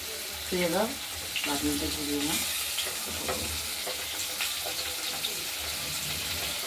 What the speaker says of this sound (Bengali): আলুটা ভাজা হোক যেহেতু আজকের আলুর পরিমাণটা বেশি সময়টাও একটু বেশি লাগবে